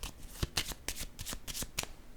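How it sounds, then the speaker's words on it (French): Playing cards placed one after another onto a table during a card game, giving several crisp slaps and flicks at an uneven pace, close and fairly quiet, with no voices. "Je vais déposer une carte au centre ici, là."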